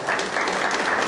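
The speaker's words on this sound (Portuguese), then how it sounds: "Uma salva de palmas aqui pro Marcos Oliveira" A brief, full burst of audience clapping at a business lecture, loud and continuous across the whole moment.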